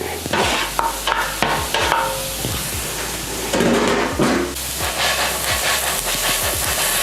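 Pumpkin being stirred into browned butter gnocchi in a hot pan, a steady sizzling hiss with scraping and clacking stirring strokes throughout.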